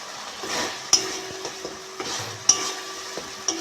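Spice masala being stir-fried in a pan with a little water, a soft steady sizzle broken by regular scraping strokes and light clinks of a spatula against metal.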